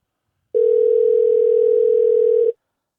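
A telephone ringback tone sounds while a call is being placed: a single steady, unbroken electronic tone lasting about two seconds, clear and alone, then cutting off.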